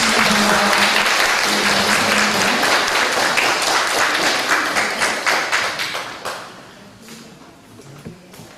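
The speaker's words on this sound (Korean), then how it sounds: "우리 박수로 환영하겠습니다" Church congregation at a Korean family church youth service claps to welcome guests, loud dense applause that thins into scattered individual claps and dies away near the end.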